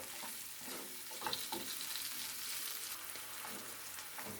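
A steady, soft sizzle of a diced tomato mixture cooking in a pan, with light scraping of a spoon stirring it.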